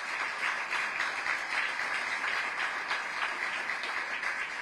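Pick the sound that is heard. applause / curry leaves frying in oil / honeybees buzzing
applause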